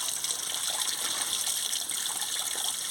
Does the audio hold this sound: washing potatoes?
yes